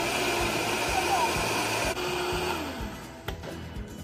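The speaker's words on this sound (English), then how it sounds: "Okay, put it on the blender." A kitchen blender whirs steadily while mixing spinach pancake batter, a loud continuous motor drone that eases off partway through, with voices talking over it.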